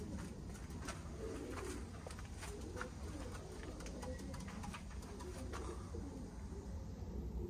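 Pigeons cooing nearby in a loft, soft repeated low coos over a steady background hiss, faint and continuous with no voices.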